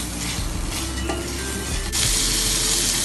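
Ginger garlic paste sizzles steadily in a hot pan while being stirred, a close, continuous frying hiss with faint scraping from the spoon.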